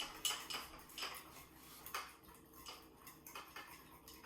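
A spoon taps and scrapes lightly against a bowl while bitter, unsweetened chocolate is stirred in for frosting, a series of faint, irregular clinks spaced about half a second apart.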